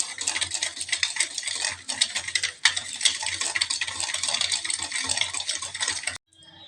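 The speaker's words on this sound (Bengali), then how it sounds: "এরপর খুব ভালোভাবে ফেটিয়ে নেব।" Curd being whisked briskly with sugar and a little nutmeg in a bowl, a dense continuous scraping and stirring that runs close and loud without pause, then cuts off abruptly near the end.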